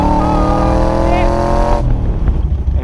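An AC Cobra race car engine drones loudly at steady revs while driving, a dense harmonic exhaust note that cuts off abruptly near the end, leaving rumbling road noise.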